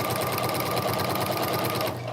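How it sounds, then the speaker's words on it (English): A sewing machine fitted with a walking foot stitches binding onto a quilt, its rapid steady needle chatter running close and continuous before easing off at the very end. "I'm gonna keep on sewing until I'm about a couple inches away from the edge of the corner"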